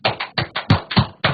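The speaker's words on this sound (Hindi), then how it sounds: "चलिए अब जोर जोर से तालियां बजाइए" Loud, close hand clapping during a yoga class, about eight sharp claps in a steady, fairly quick rhythm with no voices.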